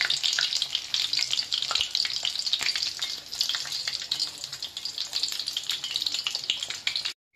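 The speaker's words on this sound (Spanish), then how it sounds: "Se fríe muy bien." Battered salt cod pavías deep-frying in hot oil, a steady close, loud crackling sizzle with dense popping bursts throughout, cutting off abruptly at the end.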